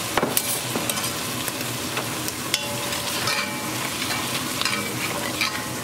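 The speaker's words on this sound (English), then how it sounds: "Next, we're going to add some vino, and that's going to deglaze the bottom of this pan." Wine poured into a hot pan of beef ribs hisses and sizzles steadily while a utensil scrapes and stirs the bottom, with sharp clinks and scrapes rising above the continuous frying noise.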